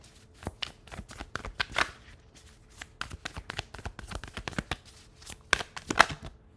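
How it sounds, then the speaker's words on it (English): Tarot cards being shuffled by hand up close, a quick series of crisp flicking and riffling bursts with short pauses between them, under faint talk. "3 cards, please"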